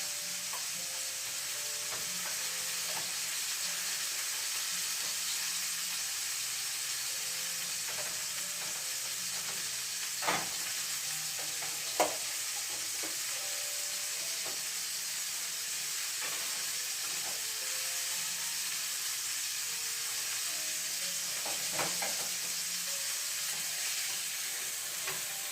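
Brussels sprouts and carrots sizzle as they roast, a steady faint hiss with soft crackles and a few brief clicks running throughout, no voices.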